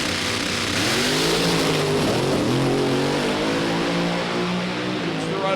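A short-wheelbase 1932 Bantam-bodied race car with a 526 cubic inch big Hemi runs at a drag strip, its engine roaring loud and steady with shifting pitch.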